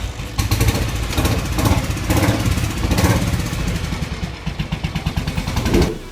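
A 1962 Indian Patrol Car police-style motorcycle with a Royal Enfield engine runs loud and close, its steady, rough mid-pitched thrum swelling and settling with a clattery mechanical edge.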